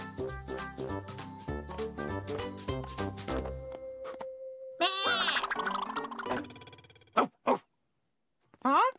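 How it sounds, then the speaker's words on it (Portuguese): Plucky, bouncy music plays, then a sheep bleats loudly in a wavering cry, followed by a couple of short bursts of sound. "Que animal faz esse som? Ovelha!"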